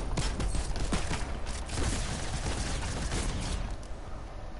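Dense, continuous bursts of automatic gunfire in a first-person shooter match, loud and steady throughout with overlapping shots and no clear gaps.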